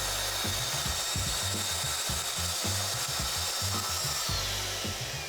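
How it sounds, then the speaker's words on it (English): A Festool TS55F track saw with a 42-tooth crosscut blade rips an 18 mm board, giving a loud whining cut with a pulsing low rhythm as it moves steadily along the track. "I'm going to be using the TS55F with the 42 tooth crosscut blade"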